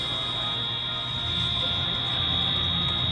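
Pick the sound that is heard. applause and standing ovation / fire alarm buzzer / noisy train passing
fire alarm buzzer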